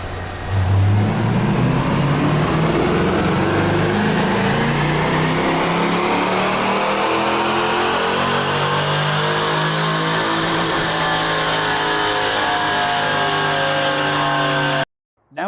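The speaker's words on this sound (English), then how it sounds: "Now let's go to our 16-degree dyno pull." A car engine on a dyno at 16 degrees ignition timing revs in one long sustained pull, pitch climbing steadily and loud throughout before cutting off abruptly at the end.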